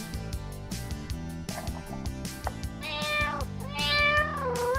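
Several cat meows, one after another, over a busy background of music or other sound, the later meows louder and drawn out.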